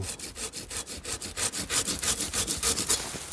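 A hand saw cuts through a tree branch in quick, regular back-and-forth strokes, close and rasping, rising slightly in intensity, with no voices.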